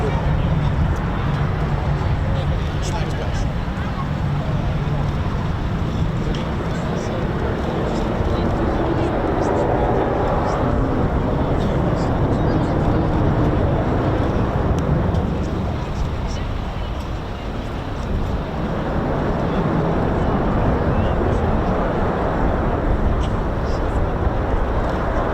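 A Eurofighter Typhoon flies a slow, nose-high display pass at RAF Coningsby Families Day 2023, a broad continuous jet roar rising and falling while a commentator talks over it throughout.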